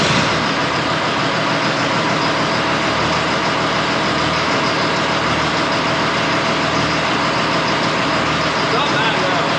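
A payloader's diesel engine starts and settles into a steady, loud, close idle that runs the whole time, with a low rumble underneath and people talking over it.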